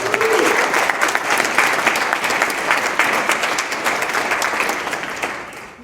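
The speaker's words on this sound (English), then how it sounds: "Can we give them a round of applause," Sustained audience applause for volunteers at an Independence Party speaking event in Redcliff, a dense, even clatter of many hands that holds for several seconds and then tapers off at the end.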